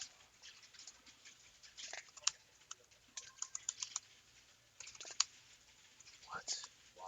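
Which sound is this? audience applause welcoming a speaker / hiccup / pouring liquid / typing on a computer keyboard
typing on a computer keyboard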